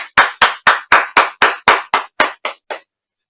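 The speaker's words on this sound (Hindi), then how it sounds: "आप सभी का स्वागत करें जोरदार तालियों" Sharp hand claps at a kavi sammelan poetry gathering come as about eleven evenly spaced claps, close and loud at first and gradually softening before stopping, with no speech.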